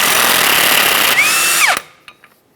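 Power tool spinning a 30mm 12-point socket on the rear axle nut of a 2011-2020 Toyota Sienna, a loud continuous whir that rises to a whine, then stops abruptly, followed by a few faint clinks.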